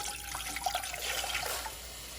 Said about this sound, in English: We're going to add another 500 milliliters of water.